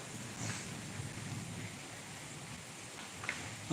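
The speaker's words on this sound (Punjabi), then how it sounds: "ਅੱਜ ਪਰ ਮੀਂਹ ਪੈ ਰਿਹਾ" Soft, steady rainfall hisses at a distance, fairly faint, with a low rumble underneath and a few small knocks.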